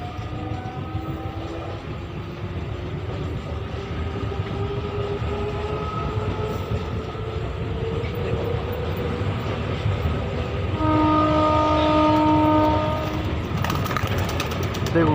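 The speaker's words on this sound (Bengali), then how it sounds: "দেখুন ঘরের কাছে কেমন ট্রেন যাচ্ছে" A train rolls past close to a house near a station, a loud steady rumble of wheels on rail lasting throughout, with a brief horn-like tone near the end and faint voices underneath.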